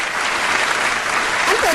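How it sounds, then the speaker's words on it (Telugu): A church congregation bursts into sustained applause, a dense, loud wash of many hands clapping together from start to finish. "చప్పట్లు కొడతాం."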